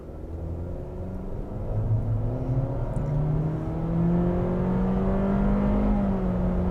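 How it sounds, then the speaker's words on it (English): A 2023 Honda CR-V EX-L AWD in sport mode accelerates hard from a brake-torqued launch, a steady engine drone with rising tones climbing and shifting as it builds speed, loud and continuous with no talk. "let's go ahead and see what we can get 0 to 60 wise"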